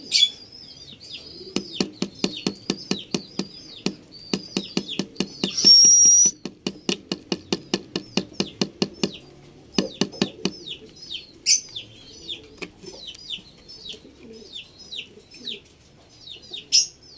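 Pet African lovebirds chirp in quick repeated bursts of sharp, close calls, with rapid rhythmic trills and clicks running almost continuously and a few brief pauses between outbursts.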